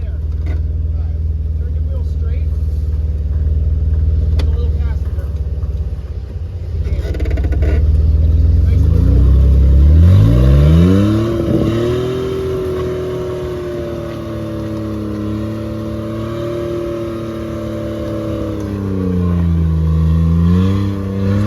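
A vehicle engine in the woods idles roughly, then revs hard with rising and falling pitch as it struggles to gain momentum in loose dirt, the strained whine wavering under ongoing talk.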